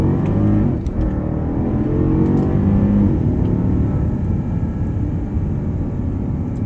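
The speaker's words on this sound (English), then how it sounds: "I'm gonna go ahead and get on the power here again." A 2013 Mercedes S550 accelerates with a smooth, steady engine hum and road rumble, heard from inside the cabin at a loud, even level with no speech.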